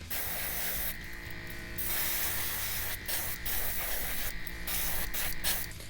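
Aerosol UVLS protective coating sprayed onto a painted red craw fishing lure: a continuous close hiss with small breaks and a faint background hum.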